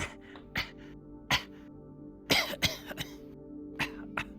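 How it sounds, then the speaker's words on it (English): A woman coughs in several sharp bursts, a few spaced single coughs then a cluster of harsh coughs near the middle, close and fairly loud over a faint background hum. "I guess I assumed you were just coughing."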